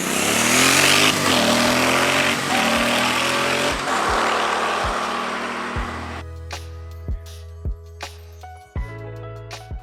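A Royal Enfield Bear 650 adventure motorcycle revs loudly and roars through rising and falling engine sweeps, then settles to a lower idle broken by several short blips of the throttle, with no voices.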